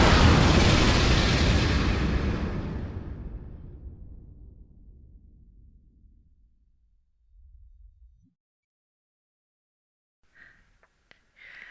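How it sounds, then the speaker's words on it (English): Huge explosion of a dragon battle collision, a loud close blast that rolls into a long deep rumble fading away over about eight seconds, followed by near silence and a few faint thumps. "The collision detonated with catastrophic fury."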